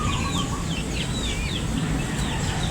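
Chickens clucking steadily close by in a backyard garden plot, a continuous busy cackle of several fowl with occasional higher calls, no talking.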